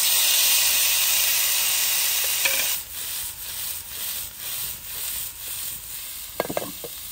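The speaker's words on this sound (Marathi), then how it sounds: "त्याच्यामध्ये गाजर टाकून घेऊ." Steady hiss of carrots dropped into hot ghee with crackled cumin seeds on a heated tawa, easing into rhythmic pulsing sizzle as they are stirred, with a few sharp clicks of the utensil near the end; no voices.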